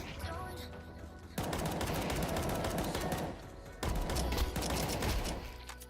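Bursts of rapid gunfire rattle in two long volleys with a short pause between, fairly distant and dense, like machine-gun fire in a shooting scene.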